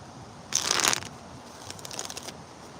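A deck of playing cards is riffled in one quick burst, followed by fainter card handling, close by and in the open air, with no talking.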